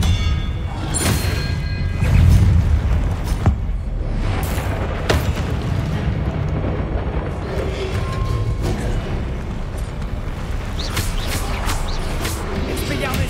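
Spell impacts in Hogwarts Legacy: a run of booming thuds and crashes over a dense, continuous game soundtrack, with a voice speaking now and then.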